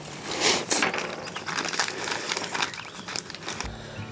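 Archery sight tape being applied, with crinkling and crumpling of the tape and backing paper in bursts of crackle, close and moderately loud, ending in a short low thump.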